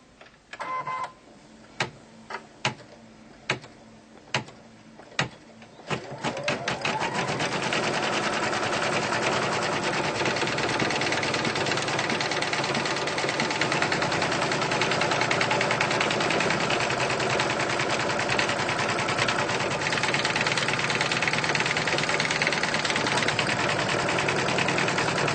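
Sewing machine stitching background fabric for a honeycomb quilt block, opening with a few separate clicks before settling into a steady, close, continuous run of rapid stitching with no talking.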